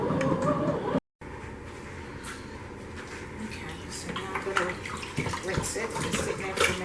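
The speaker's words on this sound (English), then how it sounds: "Rinse it in some cold water." Cold tap water runs steadily while raw barbecue ribs are rinsed in a kitchen sink, a continuous splashing stream with light clinks of dishes, broken by a brief gap and accompanied by speech throughout.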